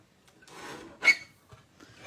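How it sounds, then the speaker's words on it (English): Paper trimmer cutting along the side of a handmade Stampin' Up! card, a soft rasping slide followed by a sharper swish of the blade, close and quiet. "I'm just going to trim the sides so that we have a actual rectangle"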